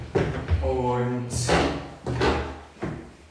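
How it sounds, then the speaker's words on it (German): A normally closed door to the musicians' loge in Schloss Belvedere is opened, with a few short knocks and rattles of the door and latch under steady nearby talking. "Wir öffnen die Tür, die sonst nicht offen ist."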